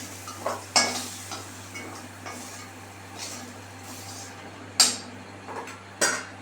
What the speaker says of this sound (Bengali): এবার আমি আলুটাকে তুলে নেব।